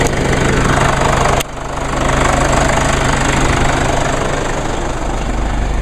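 A diesel car engine runs at a steady, clattering idle, close and loud, with a brief dip partway through.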